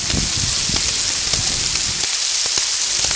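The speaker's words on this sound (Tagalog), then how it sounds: "Naglagay ako ng konting oil, garlic at onion." Garlic and onion frying in a little oil, a steady loud hiss and sizzle with scattered crackles and pops, close up and without voices, for a Filipino igado dish.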